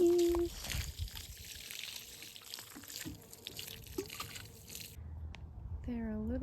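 Water splashes and trickles onto dill plants in a garden, a continuous wet pattering with a few drips; it ends with a brief rising tone.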